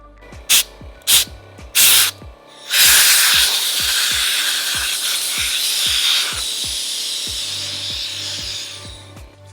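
Brake cleaner sprays from an aerosol can onto a DeWalt variable-speed polisher in a long, loud hiss of several seconds, preceded by three short bursts and accompanied by regular faint ticking throughout.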